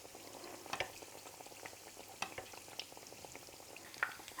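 Belyashi, meat-filled dough pastries, fry in hot oil, giving a steady quiet crackle and sizzle with scattered sharper pops, close by and with no talk.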